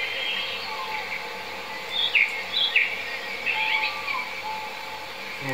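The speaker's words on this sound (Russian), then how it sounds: "Вот какие-то крики какой-то птицы слышно продолжительные" Prolonged, faint bird calls outdoors near an eagle nest in Latvia, a few sharp chirps repeating over a steady hiss of ambient noise.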